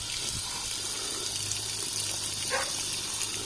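Water gushes steadily into a bucket being filled for a backyard frog pond, a loud continuous splashing rush with no talk.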